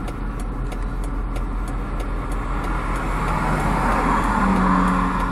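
A car drives along a road to the dump. Steady engine and tire hum sounds from inside the vehicle, unbroken for the whole stretch, with no one speaking.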